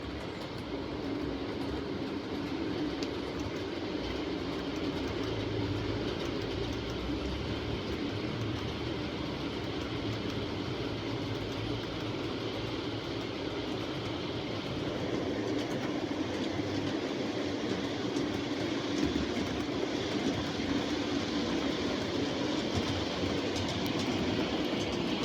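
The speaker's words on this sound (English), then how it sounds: "we'll get some trains running and see how it looks" Small trains roll steadily along a track with a constant rumbling whir and faint clicking, holding an even level throughout.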